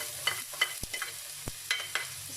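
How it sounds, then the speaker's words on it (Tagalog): Garlic, onion and ginger sizzle in a pan during a mussel stir fry, with a steady close hiss broken by several scraping stirs and a couple of sharp knocks of the utensil. "Stir fry for another 5 minutes"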